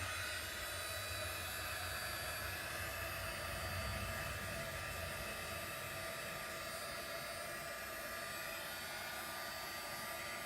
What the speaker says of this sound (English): Let's take the heat tool, try to dry sand some more.